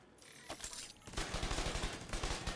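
Rapid automatic gunfire from The Division 2 video game, firing in repeated close bursts that grow denser and louder partway through and continue steadily to the end.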